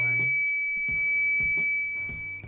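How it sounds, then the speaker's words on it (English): Continuous shrill electronic buzzer tone, set off by an ultrasonic sensor detecting a nearby object, held throughout, with a low repeating thumping pattern underneath; no voices. "why the buzzer is ringing, because it is in a value that meets the threshold"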